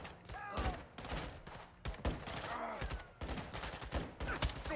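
Rapid bursts of automatic gunfire and overlapping shots crackle through a Modern Warfare 2 campaign firefight. The volleys are dense and steady, and shouted combat voices mix in.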